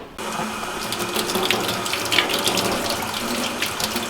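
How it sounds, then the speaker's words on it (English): Cold tap water runs steadily into a kitchen sink while rice noodles are rinsed after draining, a continuous close splashing gush with small fluctuations and no talk. "So I'm going to take and rinse them under cold water after I drain them."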